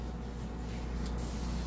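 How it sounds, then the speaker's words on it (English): A steady, hissing spray of water onto wood runs continuously at close range, soft and even, with no talking. "So what I'm doing is I'm spraying it with water."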